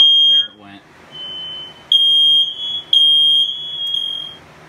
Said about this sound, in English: despite it just being a cheap household smoke alarm